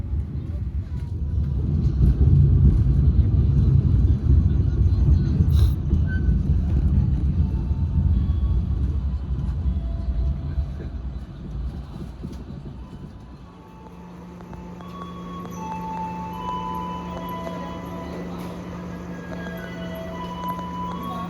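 An Argo Turangga passenger train passes close by with a loud, rushing rumble at Ciamis station, then the roar gives way to a quieter station hum with a steady tone and scattered squeals.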